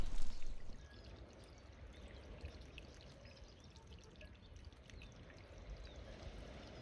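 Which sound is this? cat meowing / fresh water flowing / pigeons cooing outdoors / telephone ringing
fresh water flowing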